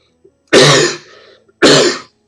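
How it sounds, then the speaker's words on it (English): A person coughs and clears their throat twice in two close, loud bursts, the second shorter, with quiet between. "Sorry about the cough, guys."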